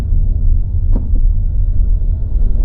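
Honda Civic compact car driving on a Michigan city road, a loud, steady low rumble of engine and tires close by, with a brief knock partway through.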